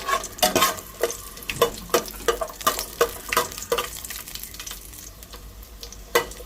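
Crushed garlic frying and being stirred in a hot pan, a steady sizzle broken by repeated scraping stirs, close and fairly loud, with no talk.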